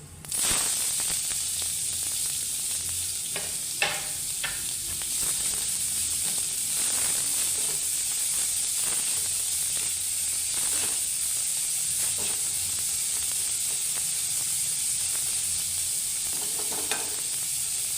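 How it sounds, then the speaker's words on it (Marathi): Chopped onion and curry leaves sizzle in hot oil with asafoetida, a loud continuous close hiss and crackle throughout, with occasional scrapes and clinks of stirring. "थोडा कढीपत्ता टाकणार आहे आणि हा आपला कापलेला कांदा घालते"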